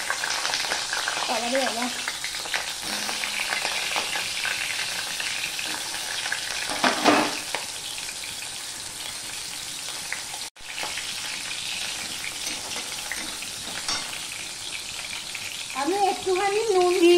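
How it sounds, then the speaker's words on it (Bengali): Sweet pumpkin pieces fry in hot oil with a steady, loud sizzle that runs throughout, stirred now and then, with a few brief spoken words over the frying near the start and end. "এবারে সবার প্রথমে আমি মিষ্টি কুমড়োগুলো ভেজে নেব।"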